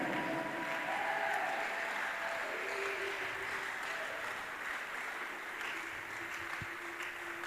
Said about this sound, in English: Keep clapping for Jesus.